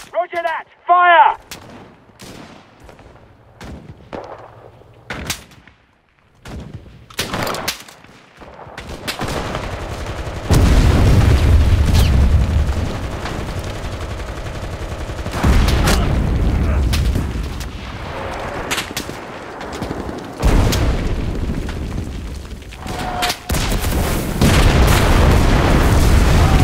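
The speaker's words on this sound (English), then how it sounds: "Artillery! Fire at the square!" Artillery fire and explosions in the video game Enlisted: scattered sharp gunshots and clicks at first, then heavy, loud booms and rumbling blasts that repeat and overlap with a brief voice.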